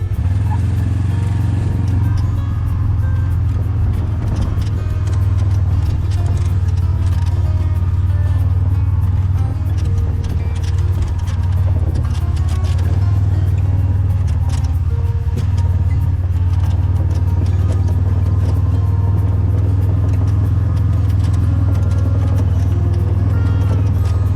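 A Kubota 850 utility vehicle drives steadily along a trail beside a fence, its engine holding a loud, constant low drone throughout with light rattling and clatter from the chassis and no talk over it.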